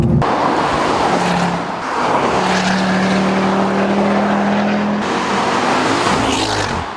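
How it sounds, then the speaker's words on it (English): A Ford Focus RS engine roars loudly and continuously, its pitch rising and holding steady as it revs hard, with road noise underneath. "The engine is definitely the highlight and it sounds fantastic"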